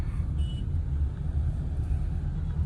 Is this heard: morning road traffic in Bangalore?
yes